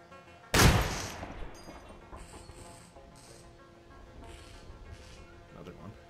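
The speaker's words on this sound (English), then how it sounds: "Ceiling turret there, huh?" A ceiling turret in the shooter game Receiver 2 fires one sharp, loud burst up close, followed by quieter mechanical clicks and beeps as the shot fades.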